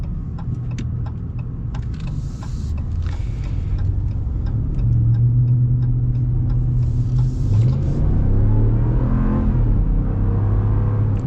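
A powerful Hemi V8 engine in a Ram pickup truck rumbles steadily, then swells and revs louder as the truck accelerates, with a deep droning tone rising toward the end.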